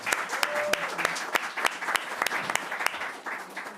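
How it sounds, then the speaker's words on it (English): Audience at a New York State public hearing on reparations gives a round of applause, a moderate scattering of claps close by with a few voices murmuring underneath. "let's give him another round of applause"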